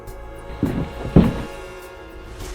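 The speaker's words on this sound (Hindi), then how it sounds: "तीसरी रात ठीक 12 बजे ठक ठक दरवाजे पर दस्तक हुई।" Knocking on a door as a horror story sound effect, two dull heavy thuds about half a second apart, close and fairly loud over a low dark background drone.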